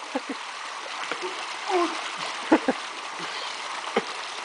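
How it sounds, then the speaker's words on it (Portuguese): Rushing water from a waterfall fills the background, with splashes and brief voices cutting in over the steady roar. "Olha o tamanho dessa cachoeira."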